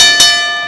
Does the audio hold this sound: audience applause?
no